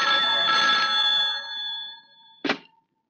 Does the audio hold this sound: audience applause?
no